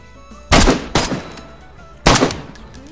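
Gunfire in the video game DayZ: three loud, close shots, the first two about half a second apart and the third after a longer pause, each ending in a short echoing tail, with no talk.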